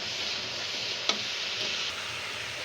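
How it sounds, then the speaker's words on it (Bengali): Mustard, green chili and cumin paste fries gently in oil for a mustard-style fish curry, giving a steady, even sizzling hiss with one sharp clink partway through and no talking. "সর্ষে, কাঁচামরিচ এবং জিরে এটি দিয়ে আমি একটু হালকাভাবে কষিয়ে নেব।"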